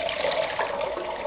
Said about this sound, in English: you can see the water coming out